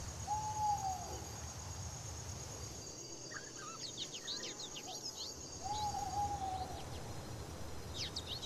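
A burrowing owl hoots twice in the desert night, two short, soft calls several seconds apart, set against a steady wash of insects and crickets with faint chirps from other birds.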